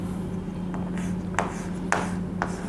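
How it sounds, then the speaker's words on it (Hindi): Marker strokes on a board during an organic chemistry lesson: a handful of short, squeaky scratches spaced unevenly over a steady low background hum. "यहाँ लिखते हैं"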